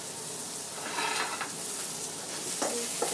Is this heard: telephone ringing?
no